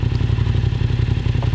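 A Yamaha MT-07 motorcycle engine with a Healtech iQSE quickshifter runs close with a lumpy rhythmic idle pulse, loud and steady with slight clattering throughout.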